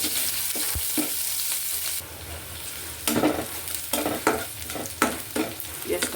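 Chopped onions with bay leaves and minced garlic frying in oil, a close sizzle broken by repeated scraping stirs with a spatula that surge and fade in an uneven rhythm, with no voices.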